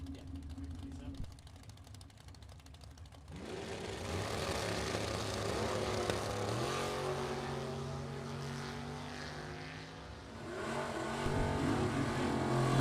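Drag race cars, including a 383 small block Chevy Camaro, launch off the starting line with a loud, sustained engine roar that builds and swells, rising again near the end, with an announcer talking over it.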